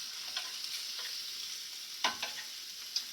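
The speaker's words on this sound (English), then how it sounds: "I'm just going to let this cook up." Small lobster tail and shrimp frying in a hot pan, a steady bright sizzle with a few stirring scrapes and clicks of a utensil against the pan, close and continuous with no talking.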